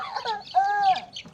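A hen clucks in short bursts, with one longer drawn-out call in the middle, close and clear against a quiet background.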